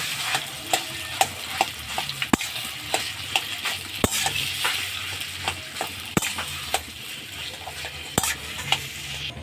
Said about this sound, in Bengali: আলু আর এঁচোড় যেটা আমি মেখে রেখেছিলাম সেটা আমি এর মধ্যে দিয়ে দিলাম। দিয়ে এবার একটু আমি ভালো করে নাড়াচাড়া করে নেব।